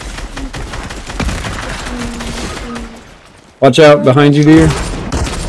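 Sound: machine gun fire in a video game

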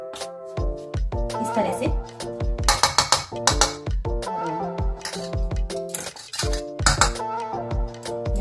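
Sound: mixing methi thepla dough ingredients in a bowl

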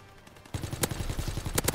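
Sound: gunfire in the video game Call of Duty WWII

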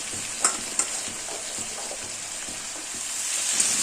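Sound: stirring Malabar spinach stems into frying vegetables

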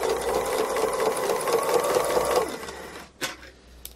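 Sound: sewing machine doing free motion embroidery

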